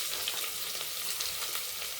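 Wet garlic frying in a pan, a close, steady hiss and crackle of sizzling oil with small popping bursts throughout, no talking.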